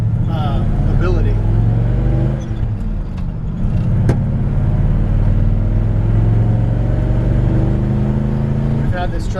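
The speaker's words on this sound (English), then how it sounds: "I'm doing 55 right now, 60, and I'm barely even touching the gas." A 1954 Ford F-100 pickup with a 292 Y-block V8 cruises at highway speed, its engine giving a steady, loud low drone with road rumble throughout, while someone talks over it.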